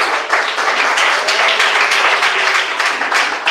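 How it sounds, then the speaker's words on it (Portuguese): A church congregation claps hands together in a loud, dense, continuous burst of applause lasting throughout, with no voices standing out. "bate palmas."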